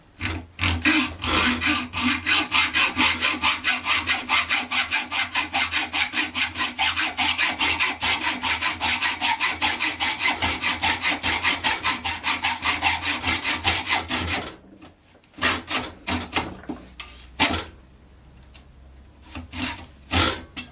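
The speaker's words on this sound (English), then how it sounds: "Last bit of cutting on this first bolt." Hand sawing through a bolt on a hydraulic floor jack, a fast, even back-and-forth rasp of the blade repeating loudly and close for about fourteen seconds, then stopping, followed by a few scattered scrapes and clunks.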